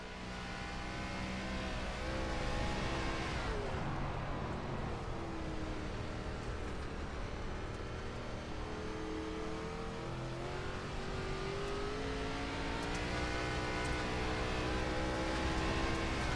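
An ARCA race car engine drones steadily on throttle around a clay dirt track, its pitch sweeping smoothly up and down in long loud continuous waves with no gaps throughout.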